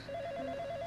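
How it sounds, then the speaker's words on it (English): A telephone ringing with a steady warbling electronic tone, moderately loud and sustained, over faint background noise and with no talking. "The phone,"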